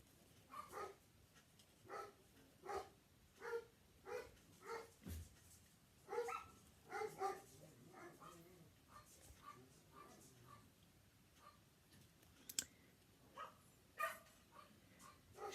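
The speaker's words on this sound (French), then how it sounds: "mon mari garde des chiens et c'est l'heure du repas, voilà, donc malheureusement, ça crie à l'heure des repas" Kennel dogs bark repeatedly at feeding time, a steady series of sharp barks with some yips and whimpers, slightly distant and moderately loud.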